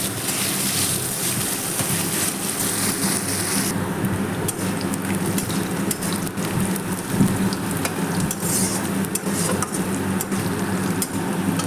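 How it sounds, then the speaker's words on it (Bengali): Onions frying in a pan give a steady, dense sizzle that runs throughout, loud and close, with faint stirring and no talk. "পেঁয়াজটা দিয়ে আমি ভালো করে নাড়াচাড়া করে"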